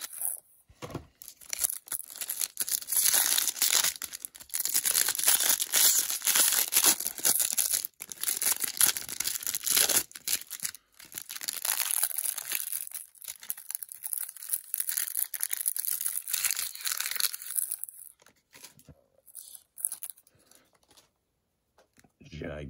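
Rustling, tearing and crinkling of a 2022 Topps Series 1 baseball card hanger box and its wrapping as it is opened, steady and close for most of the stretch before tapering off near the end.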